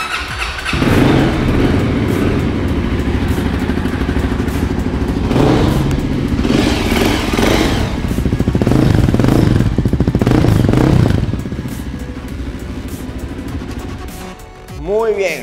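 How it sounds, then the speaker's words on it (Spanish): A Voge 300cc motorcycle's fuel injection primes and then the engine fires up and runs, loud and close, with a rough throbbing idle and a few revs that swell and ease off before it settles near the end. "vamos a ver cómo suena el motor y la alba de esta moto hermosísima"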